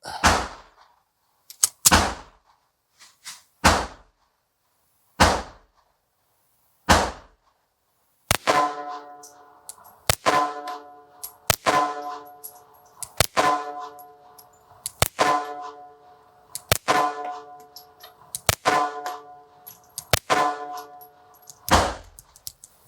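Shots from an S&W Bodyguard 2.0 pistol firing Fiocchi ammunition, loud sharp cracks at an indoor range, first spaced singly, then a faster string of about a dozen reports with ringing echoes between them.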